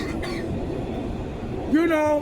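Inside a moving New York subway train, a steady rumbling roar of the car fills the space, with a rising metallic squeal near the end and a voice speaking over it.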